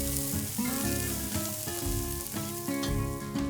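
Cabbage frying in a pan for stoemp, stirred now and then, gives a steady close sizzle broken by scraping stirs, with music playing underneath.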